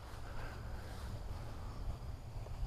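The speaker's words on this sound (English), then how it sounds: "A little wind gust there" A gust of wind buffets the microphone outdoors during a flight of an FMS Zero 1.1 m remote-control plane, giving a steady low rushing roar that swells slightly without any talk.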